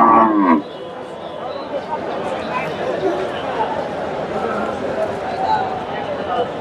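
Cows at the rainy Dhaper Haat cattle market in Bangladesh: a single nearby moo opens, then steady crowd chatter and market bustle carry on underneath.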